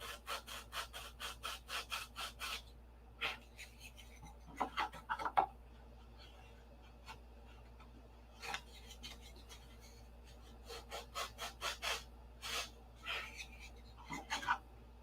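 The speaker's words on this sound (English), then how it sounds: "I'm sanding this piece to fit" Hand sanding of a wooden piece on a P-47 model nose: bursts of quick rasping back-and-forth strokes, moderately close, separated by short pauses, with no talking.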